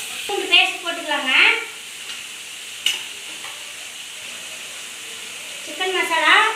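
Garlic paste sizzles in a hot pan while it is stirred, giving a soft steady hiss broken by a few scraping strokes. A person speaks at the start and near the end.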